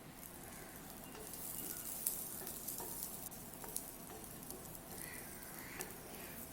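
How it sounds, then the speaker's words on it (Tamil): Garlic and tamarind sauté in a pan over a lowered flame for spicy garlic chutney, giving a steady close sizzle with scattered crackles and light stirring scrapes and no talking. "அதுக்கப்புறம் பூண்டும் போட்டு கொஞ்சம் வதக்கிக்கலாம்."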